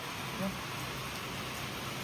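Heavy rain falls outside at night, a dense continuous hiss of downpour that stays steady and fairly faint throughout.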